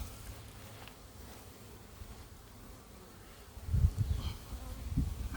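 Bees swarm and buzz around an angry, disturbed hive during a search for the queen. A continuous dense drone fills the air, swelling louder and closer toward the end as insects pass near.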